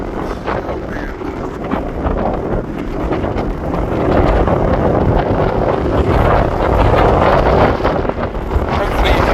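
Strong wind buffets the microphone on the Wirral coast near a port where cargo ships pass, a loud continuous rumbling roar that swells and stays heavy throughout.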